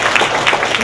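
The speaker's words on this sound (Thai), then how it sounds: "ปรบมือให้บอสด้วยค่ะ" Applause for the boss at a company event, with a room full of people clapping in a dense, even patter throughout the brief moment.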